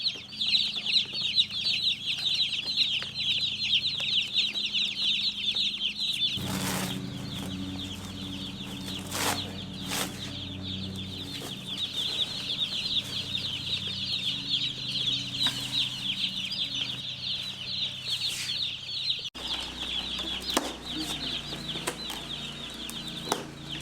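Baby chicks in a box on a homestead, a steady chorus of high, shrill peeping from many birds close by, with a few knocks and thumps and some low background noise underneath.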